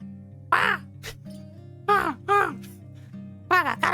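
Crows in a video game caw loudly in several harsh, drawn-out calls, spaced in short bursts over a steady low game music backdrop.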